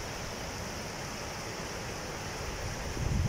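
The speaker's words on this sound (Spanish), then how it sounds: "Y hace una cascada interesante aquí." Reservoir spillway overflow pouring down as a cascade toward the Chubisca river, a steady broad rushing roar of falling water, continuous and even with no voices.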